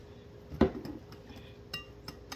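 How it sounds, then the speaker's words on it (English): Spelt and all-purpose flour batter is folded in a bowl, heard as a few close, sharp utensil clinks and knocks against the bowl, one louder tap followed by lighter scattered taps. "So this is the batter here we are making. We need to fold it in."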